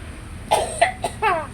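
A person coughs about four times in quick, uneven succession, close and fairly loud, the last one rasping.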